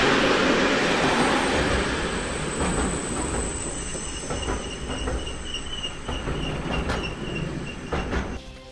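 A DMU passenger train halted near Golwar on the Amritsar–Khemkaran line during a farmers' protest, with a steady broadband rail rumble, squealing wheels and a high insect-like whine throughout, no voices heard.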